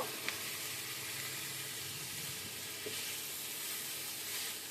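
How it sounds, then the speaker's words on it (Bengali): Cauliflower and fresh green peas sizzle softly in a pan as they are stirred, a faint, continuous hiss with occasional light scrapes. "তার সাথে এক মুঠো কড়াইশুঁটিও তাজা দিয়ে দেব, দিয়ে খুব ভালো করে নাড়াচাড়া করে মিশিয়ে নেব"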